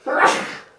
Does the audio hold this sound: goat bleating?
no